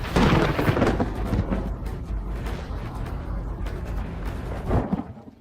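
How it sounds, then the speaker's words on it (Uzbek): A thunderstorm's heavy rain roars with a deep rolling rumble, loud at first, easing through the middle and swelling briefly again before fading. "Yomg'ir juda ham qattiq yog'yapti."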